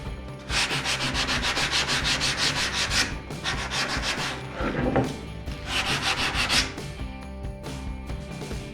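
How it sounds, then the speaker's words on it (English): Sandpaper of 60, 100 and 150 grit rubbing down a rough wood edge, close and loud, in three rhythmic bursts of quick back-and-forth scratchy strokes. "100 and 150 grit sandpaper to take this rough edge down"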